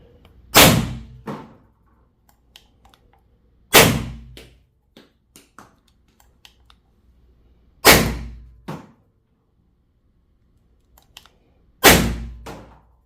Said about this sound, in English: Shooting this one a little faster, the last shot might not be as good.